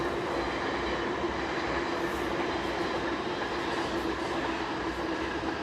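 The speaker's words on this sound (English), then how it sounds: "So that was just a single train closure, that one." A train passes through the Dock Hills level crossing, giving a steady, moderately loud rumble and wheel noise that carries on without a break. No one speaks over it.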